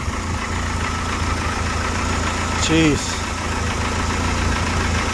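A Saturn S-Series car with a rear-mounted turbo idles with a steady, throaty rumble, close and loud, while a voice briefly exclaims over it.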